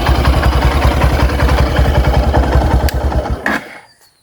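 Close-up idle of a 2023 Hero X-Blade DD ABS motorcycle engine, loud rhythmic low thumping with slight vibration that cuts off abruptly near the end, followed by a brief click and quiet.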